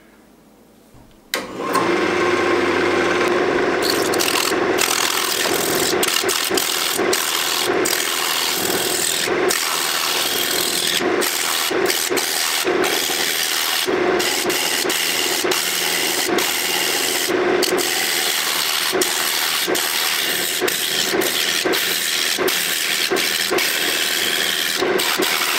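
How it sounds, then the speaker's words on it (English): A roughing gouge cuts into a soft, dry pine bowl blank spinning on a wood lathe, making a loud, continuous scraping rasp with a steady drone underneath, close to the ear throughout after a brief quiet start. "I'm going to start with the roughing gouge first, make it round, and then take this part off here first."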